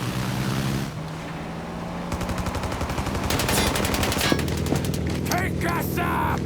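Rapid bursts of gunfire crackle over a steady engine drone during a plane chase in Mafia: Definitive Edition, with electronic game effects cutting in toward the end.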